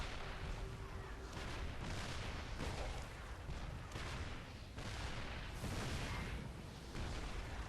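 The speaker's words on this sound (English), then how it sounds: "Giving enough vision so these tanks are shooting at maximum range." Tanks in a StarCraft 2 match shell at long range, giving dense, continuous heavy booms and explosions that roll one into another with a steady rumbling intensity throughout.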